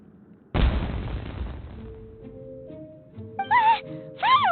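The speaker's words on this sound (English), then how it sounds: "It sounded like fireworks." A single loud, booming firework explosion bursts in Genshin Impact's Inazuma region and decays into a rumbling wash, followed by short game vocal sounds.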